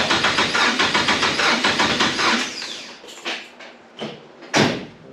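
Toyota FJ45 Land Cruiser engine being cranked on the starter without catching, a steady rapid rhythmic churn lasting about three seconds, then a few separate short bursts and knocks as the crank is tried again, close and loud.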